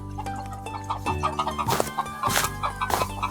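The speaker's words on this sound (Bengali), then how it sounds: "একটা মুরগি আহত হয়ে পড়ে আছে" A hen on a cartoon farm clucks repeatedly in short, close, rhythmic bursts, with a couple of louder squawks toward the end and no talking.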